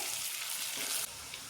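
Potato pieces fry in oil over a medium gas flame, giving a steady broadband sizzle that holds evenly, then drops slightly softer near the end, with no voices.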